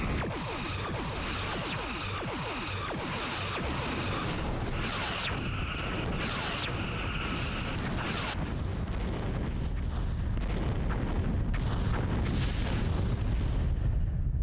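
Torpedoes launch in the space combat game Star Trek: Bridge Commander, with a rapid series of sharp bursts over a constant low rumble of engine and weapon noise that stays loud throughout.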